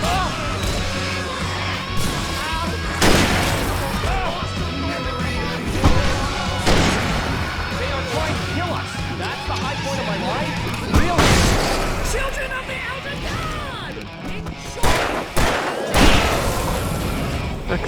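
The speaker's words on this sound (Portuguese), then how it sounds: "Um tiro pra cada." Sharp gunshots ring out at irregular intervals amid game sound effects and music in Alan Wake Remastered, with voices talking over the action.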